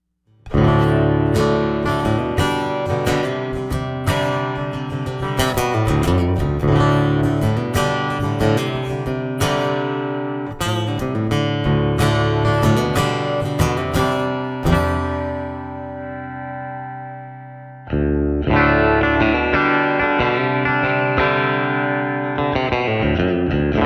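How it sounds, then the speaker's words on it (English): A Fender Acoustasonic Stratocaster played through a PA plays a continuous run of strummed chords and melodic notes, loud and full, with a brief pause before a brighter passage. "show you position 2 right through the PA so you can see just how usable the electric sound is"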